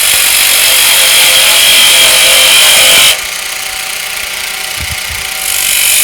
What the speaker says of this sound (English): I'll use my small bowl gouge to work on that foot